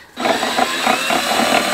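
A cordless power drill drives screws to hang a hook outdoors in snowy garden conditions, with a steady whirring motor running continuously, pulsing slightly as the screw bites, close and fairly loud.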